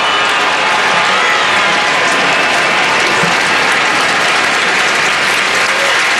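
A baseball stadium crowd of over 34,000 applauds loudly and steadily, a dense, continuous wash of clapping acknowledging the first hit of the game in the seventh inning.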